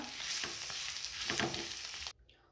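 Samosa filling is stirred in a pan over the heat, a continuous close sizzle with scraping spoon strokes, ending abruptly after about two seconds.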